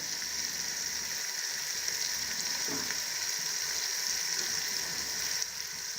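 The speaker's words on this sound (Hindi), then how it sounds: "इसमें प्याज तकरीबन 2 मिनट तक पक चुके हैं" Steady, dense sizzling of onions frying in a hot pan, continuous and close, with a faint stir partway through.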